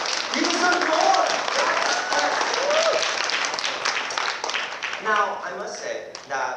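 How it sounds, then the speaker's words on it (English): Audience applause at a Pilipino musical show, a dense wash of many hands clapping at moderate loudness that thins toward the end, with voices and cheers mixed in. "Please give yourselves a round of applause."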